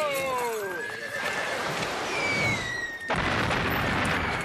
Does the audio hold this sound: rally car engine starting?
no